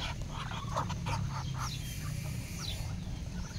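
Roosters, hens and ducks crowding around a shared feed at a boodle fight, a busy close mix of pecking, scratching and soft clucks over constant outdoor background noise.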